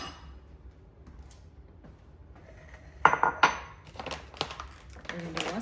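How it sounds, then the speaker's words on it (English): A bowl being pulled out in a home kitchen, with a quiet lead-in followed by a burst of close clinks and clatters of dishes and cutlery. "So let me get a bowl."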